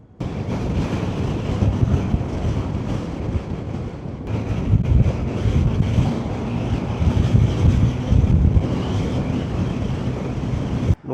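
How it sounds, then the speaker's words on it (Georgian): Strong wind buffets a microphone outdoors where a courier rides a moped in gusty weather, making a continuous loud low rumble that surges and fades in gusts, with no talking. "ძალიან ქარია ეხლა აქ."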